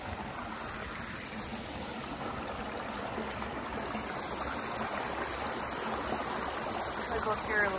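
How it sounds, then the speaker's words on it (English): Constant rushing water from a small waterfall on a snowy walk in Kodiak, Alaska, steady and fairly close, with no voices. "we're coming up on my favorite little waterfall"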